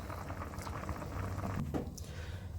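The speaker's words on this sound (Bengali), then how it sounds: "তাই পাস্তাটাকে সিদ্ধ করে নিচ্ছি" Pasta boiling in a pot of water, a steady close bubbling rumble with light burbling and a brief clink near the end.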